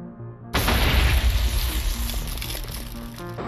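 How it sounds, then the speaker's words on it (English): Amplified creeper explosion in Minecraft, three times larger than normal: a sudden loud boom erupts after a brief quiet lead-in, then rumbles and crackles steadily through the rest of the clip. "Blocking a creeper will create an explosion 3 times larger than normal, while also protecting you from damage."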